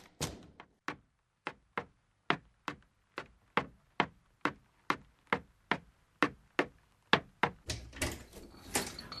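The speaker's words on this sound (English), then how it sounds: "Oh, that's the front door." Steady, evenly spaced knocking on a front door, about twenty sharp raps in a regular rhythm, fairly close and clear, with a brief clatter of other noise at the end.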